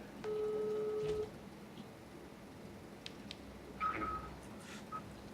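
A telephone dialing a call, with a long steady tone followed by a few short beeps and faint clicks against a quiet room hiss, no talk.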